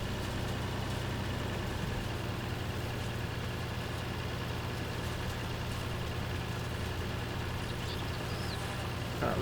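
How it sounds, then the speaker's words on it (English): A tractor engine in Farming Simulator 19 holds a steady, low drone evenly throughout, a heavy motor running at constant speed with no talking over it. "you can hear this tractor is having no issue whatsoever"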